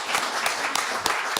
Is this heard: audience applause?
yes